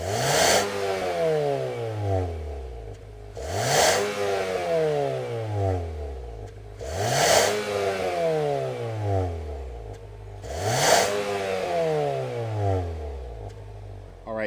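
A 2023 Nissan Altima SR exhaust revs four times in a row, each burst rising sharply then falling back to idle, loud and close with no talk.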